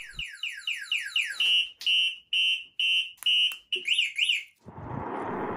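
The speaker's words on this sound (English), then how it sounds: "a whole bunch of awesome sounding alarms and sirens will go off" An electric bike's security alarm runs through rapid sweeping chirps, steady beeping tones and warbling sirens, loud and close, then cuts to a noisy hiss.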